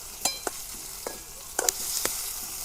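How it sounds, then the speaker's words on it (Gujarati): Raw mango pieces cooking on low heat in a pan with gentle sizzling under a steady hiss, broken by a few light clicks of stirring, fairly close and without talk. "આપણે ધીમા તાપે એને ચડવા દેવાની છે કેરીને થોડીક"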